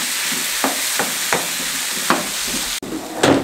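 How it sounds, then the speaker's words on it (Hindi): Moong dal being stir-fried in a spice masala in a pan, with a steady hiss of frying under repeated clinking strokes of a spoon as it is mixed, loud and close, no talk. "1 मिनट तक अच्छे तरीके से इस मिसाले में दाल को मिक्स कर लें।"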